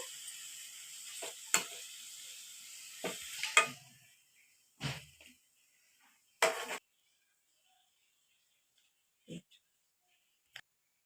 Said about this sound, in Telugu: చికెన్ వేపుకున్న ఆయిల్లోనే అల్లం వెల్లుల్లి పేస్ట్ వేసుకుంటున్నాను.